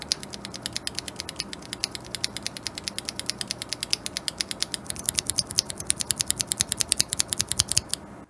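Rapid, even typing on Durock Cerulean tactile mechanical keyboard switches fitted with GMK keycaps, a steady stream of crisp clacks that grows denser and slightly louder toward the end, heard alone and close up.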